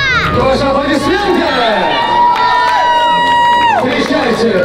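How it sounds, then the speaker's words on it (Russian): An audience at a children's birthday party show cheers, whoops and claps under loud music with sustained tones, lively and close, while children shout amid the crowd noise. "Ваши аплодисменты!"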